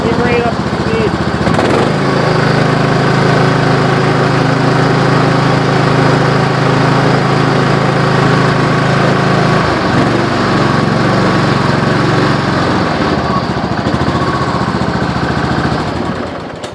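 Riding lawn mower engine warmed up after an oil change, running loud and close with a steady drone, dipping briefly mid-run, then continuing steady before cutting off at the end.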